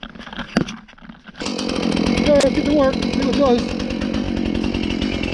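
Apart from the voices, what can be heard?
chainsaw running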